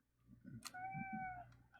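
A house cat meows once in a long, clear, drawn-out call over low background rumble and faint thumps, heard close and alone.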